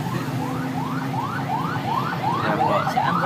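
An ambulance siren rises and falls in steady repeated wailing sweeps over traffic rumble, fairly near and continuous throughout.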